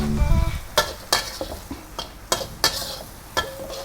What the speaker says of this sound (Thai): ก็ผัดให้เข้ากันอีกครั้งนะครับ